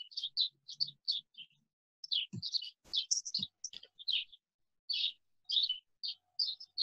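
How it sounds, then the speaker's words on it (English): Small birds chirp in quick bright bursts indoors during a lecture, a steady run of high tweets with a few low knocks and thumps between them. "Are those birds?"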